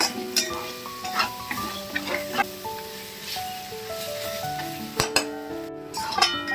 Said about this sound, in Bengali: দেখো চিকেন আর পেঁয়াজটা বেশ ভাজা ভাজা হয়ে এসছে।